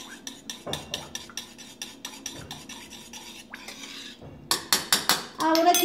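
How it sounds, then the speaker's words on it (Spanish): Spoon clinking against a bowl while a gelatin mixture is stirred, a quick regular series of close, bright clinks that pauses briefly and then resumes faster and louder. "Mezclamos un poquito."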